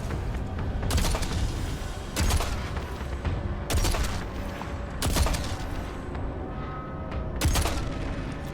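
Heavy gunfire from a weapon in Destiny 2 fires golden gunshots, five loud booming shots spaced about one and a half seconds apart, each followed by a rumbling tail over steady game ambience.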